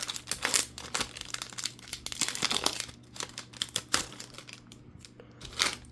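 A Donruss Racing hobby card pack wrapper is torn open in close, crisp bursts of crinkling and ripping foil, with irregular rustles and short pauses between them and nobody talking.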